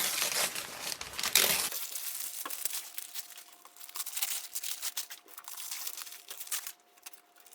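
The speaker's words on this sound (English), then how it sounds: "go ahead and remove the paper" Paper is peeled off a Jeep hood hinge during a paint makeover and crinkled, a close, dense rustle that is loudest at the start and then continues as softer scattered crackles and crunches.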